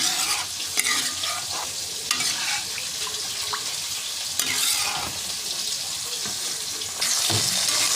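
Food being stirred and mixed in a frying pan after a splash of water is added, continuous close sizzling with scraping strokes and a louder burst near the end, no voices.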